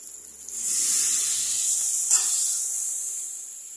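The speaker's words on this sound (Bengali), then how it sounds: "এটা বয়েল হচ্ছে" Water boils in a Bengali potato and cauliflower curry with lentil dumplings, a steady bright hiss rising and holding, with a faint bubbling tick midway.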